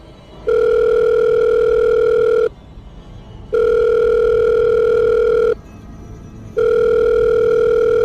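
A telephone dial tone sounds as a sound effect in a Korean audio drama while a call is placed: three loud, steady tone bursts of about two seconds each, separated by short silent gaps, with no voices.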